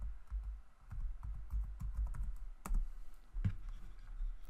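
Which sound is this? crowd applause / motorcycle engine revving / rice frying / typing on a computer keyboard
typing on a computer keyboard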